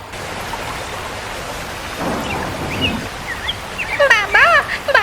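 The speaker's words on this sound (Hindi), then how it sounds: "बाबा बारिश शुरू हो गई।" Steady cartoon rain hisses in the background, with a low rumble and chirpy tonal sounds rising toward the end.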